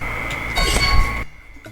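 A loud metallic swish and ring of a knife being drawn in Valorant, the 5th-anniversary knife, lasting about a second before cutting off to quiet.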